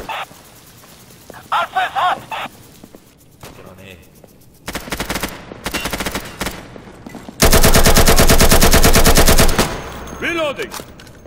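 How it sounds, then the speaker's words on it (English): Gunfire in the video game Insurgency, a few scattered shots, then a dense stretch of rapid machine-gun bursts and one long sustained loud volley, with voices shouting in between. "Stop shooting, I'm on your side!"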